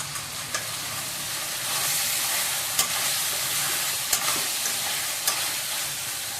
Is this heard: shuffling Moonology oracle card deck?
no